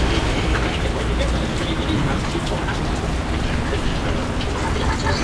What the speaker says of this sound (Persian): خیلی باد شدید و بارون شدید